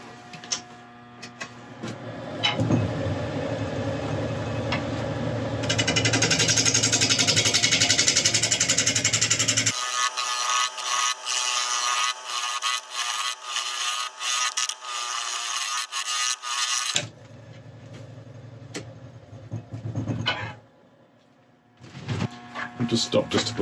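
A wood lathe spins a burl at about 600 RPM while a tool cuts into it, giving a loud, shifting whirr and scraping that starts and stops in sections, with someone speaking at times.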